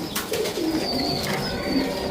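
A pair of pigeons, a local Giribaz breed kept in a loft, coo softly in a close, continuous murmuring rumble with a faint higher chirp now and then, alone and without talk.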